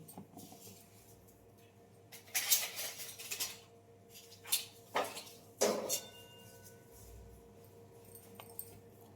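Potatoes, onions and a tomato are cut by hand in a home kitchen, with several separate bursts of knife and chopping-board clatter and handling noise between quieter pauses, no talk.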